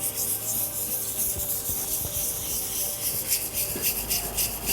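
Steady scraping and rubbing of a tool drawn repeatedly across an NSK sharpening stone, a close, gritty, continuous rasp with no voices.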